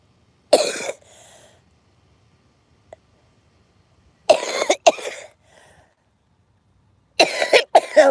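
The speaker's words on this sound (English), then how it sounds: "That's the last cough." Three harsh, close coughing fits from a person with shoulder pain, each a cluster of rough bursts separated by quiet pauses, with a faint click in the gap.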